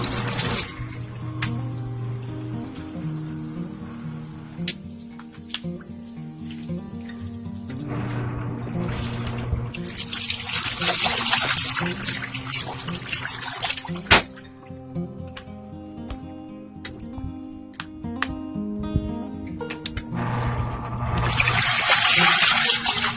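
A Giantex portable twin tub washing machine churns clothes in rinse water, giving a steady loud sloshing and gushing with a motor hum and periodic surges, heard alone without talk.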